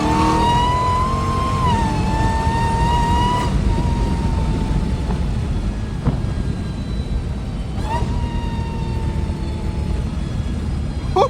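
A Dodge Hellcat engine drones loudly and steadily throughout, its pitch climbing and holding as the car pulls under load, with no voices over it.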